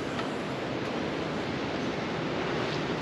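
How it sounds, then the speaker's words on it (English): Strong, steady wind roars around a parked old RV, a dense continuous rush with no pauses or other sounds, loud and close to the microphone throughout. "Crazy wind, I swear."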